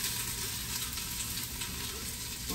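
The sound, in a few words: onions sizzling while frying in a pan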